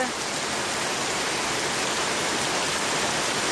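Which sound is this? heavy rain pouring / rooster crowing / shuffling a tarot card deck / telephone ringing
heavy rain pouring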